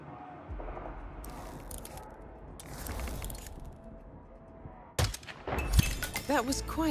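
An explosion in the Hitman 3 video game, a sudden loud boom with crashing debris after a stretch of rumbling ambience and muffled game noise.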